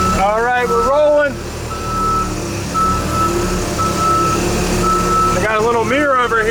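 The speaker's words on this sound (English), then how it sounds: "I'm going to shift this thing into reverse and take the parking brake off" Large truck backing up in reverse gear with its reversing alarm sounding loud repeated beeps at the start and end, over a steady engine rumble, with a gap of engine noise between the beep bursts.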